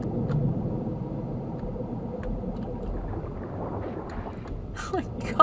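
A rover mount engine in the game Wizard101 rumbles steadily at a low, droning pitch, with a brief voice near the end.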